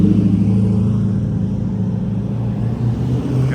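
Koenigsegg supercar engines idling and revving at a car-spotting event, a loud, steady low rumble from nearby with slight rises in pitch.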